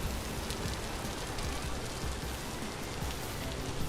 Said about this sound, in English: I don't want to hear the rain down here if I can avoid it